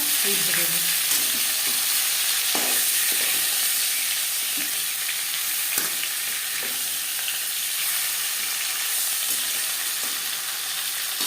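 Pangas fish fries in hot mustard oil with a steady, close sizzle and occasional pops and stirring clicks throughout, no voices present.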